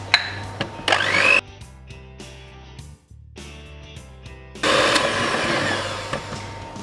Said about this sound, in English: I'm hoping you guys can hear us over this blender because it's so loud